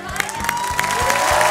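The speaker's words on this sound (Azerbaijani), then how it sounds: "Mən istəyirəm ki, siz bu uşaqları, bu qəhrəmanları, bu döyüşçüləri alqışlayasınız." Audience applause and cheering at a children's singing contest show, a steady dense wash of clapping with a few louder claps standing out, loud and close, with no talk over it.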